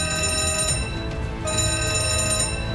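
General emergency alarm aboard the Costa Concordia cruise ship, a loud, continuous electronic ringing tone with sustained harmonics that briefly dips mid-way before resuming, heard alone without voices.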